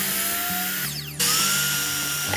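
A power saw cuts 2x2 wooden boards into legs for a bookcase build, whining loudly and steadily with a shift in pitch partway through as the blade bites and the cut finishes.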